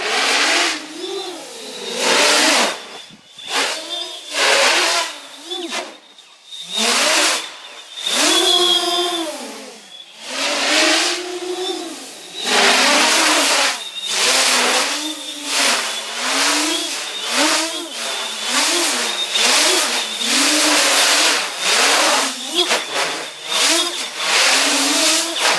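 A large iFlight X-Class FPV racing drone fitted with bright LEDs flies close by, its motors giving a loud, buzzing whine that repeatedly surges and dips in pitch as the throttle changes, continuous throughout with no talking.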